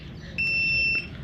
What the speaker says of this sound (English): Why did it beep?